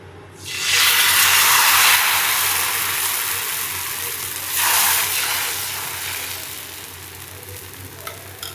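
Dosa batter poured onto a hot stone griddle bursts into a loud, close sizzle that holds as a broad hiss, swells again midway and then slowly settles.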